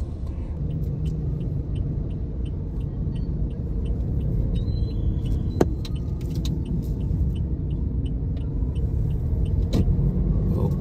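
Steady low rumble of cars and other road traffic building up outside a mall on its grand opening day in San Pedro, Laguna, with faint clicks and a single sharp tap over the continuous engine drone.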